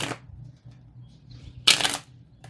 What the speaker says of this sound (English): let's give this a little bit of a shuffle and see what else comes through